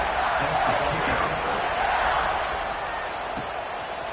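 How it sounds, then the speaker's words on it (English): Stadium crowd in a football video game roaring steadily during a kickoff, a dense sustained cheer that stays loud throughout with faint shouts mixed in. "this crowd is feeling themselves after that last drive"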